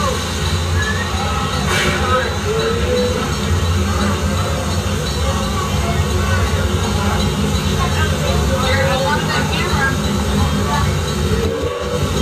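A Six Flags amusement park train rumbles and clatters steadily along the track, a continuous low mechanical roar with faint squeals and a brief whistle-like tone.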